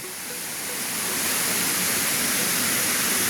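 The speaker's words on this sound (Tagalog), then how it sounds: "ito po yung falls na sinasabi ko sa inyo" A waterfall on a farm lot in Calauag, Quezon, in rainy weather, roars as a steady, loud, dense wash of falling water that swells slightly and then holds constant, with no voices.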